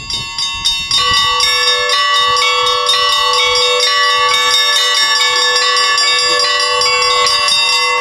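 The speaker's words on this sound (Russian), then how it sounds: "В светлую седмицу в праздничный колокол, как и полагается, трезвонят вовся" Orthodox church bells pealing the festive Easter ringing from a bell tower: a few quick opening strikes, then a dense, ringing clangor of many bells overlapping in a rapid, continuous rhythm, loud and close with long sustained tones.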